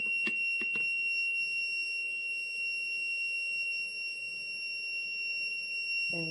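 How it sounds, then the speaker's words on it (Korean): An electrical conductivity tester's buzzer sounds a continuous high-pitched electronic tone, steady and fairly faint, with a few brief clicks and knocks at the start and a small bump at the end. "이게 전기가 통하면 여기에 불이 들어오면서 부저가 울리거든요"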